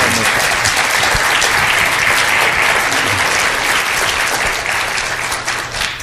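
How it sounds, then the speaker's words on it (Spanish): Audience applause fills a lecture hall at a medical congress, a dense, steady roar of many hands clapping close by for the whole stretch before gradually thinning at the end. "pido por ello un aplauso para el doctor"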